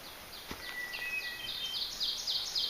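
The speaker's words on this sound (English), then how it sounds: "Got that flute sound." A hermit thrush sings a run of clear, flute-like whistled phrases, rising in brightness and repeating steadily, heard alone against a quiet outdoor background.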